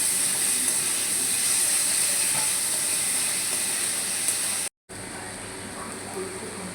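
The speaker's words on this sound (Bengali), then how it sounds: "একটু ভাজা ভাজা করে নেব।" Grated onion fries in oil in a pan, giving a steady bright sizzle and hiss that runs almost unbroken, with one brief cut near the end.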